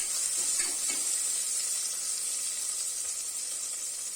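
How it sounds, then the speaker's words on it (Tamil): Onions sautéing in a pan for Chettinad therakkal give a steady, close sizzling hiss that holds evenly throughout, with a few faint stirring touches near the start. "வெங்காயம் சேர்த்துட்டு நல்லா வதக்கி விடலாம்."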